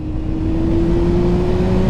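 Honda Hornet motorcycle engine running at a steady, loud idle-to-rev level, a continuous close-up engine drone with a sustained hum throughout.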